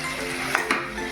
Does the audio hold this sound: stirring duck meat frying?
yes